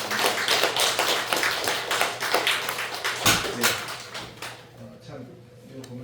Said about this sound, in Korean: 우리 박수로 좀 감사합니다